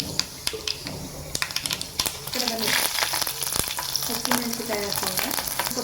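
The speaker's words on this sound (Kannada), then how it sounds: "ಈಗ ಇದಕ್ಕೆ ಒಣಮೆಣಸು ಒಣಮೆಣಸು ಎರಡು ಸ್ಪೂನ್ ಹಾಕೋತಾ ಇದ್ದೀನಿ" Dried red chillies hitting hot oil in a pan, about two spoonfuls, sizzle loudly and up close, with sharp crackles and spatters over a continuous frying hiss and some stirring clatter.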